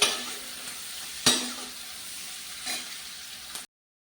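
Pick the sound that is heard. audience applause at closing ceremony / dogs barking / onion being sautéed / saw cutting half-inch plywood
onion being sautéed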